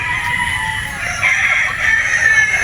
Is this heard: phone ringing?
no